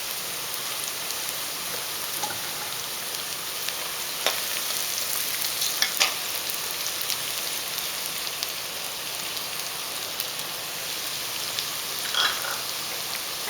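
Grated coconut fries in a pan with a steady, close hiss of sizzling, broken by occasional scraping stirs and small pops, with no voices.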